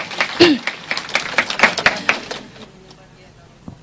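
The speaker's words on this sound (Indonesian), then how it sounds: "Tepuk tangan dong saudara." A church congregation claps hands during a sermon, a burst of dense, uneven claps that fades out after a few seconds, with a voice speaking over the start.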